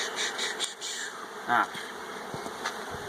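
Honey bees buzz around a swarm trap baited with old brood comb, a fairly faint, fluctuating hum of several insects passing close with a brief louder swell midway.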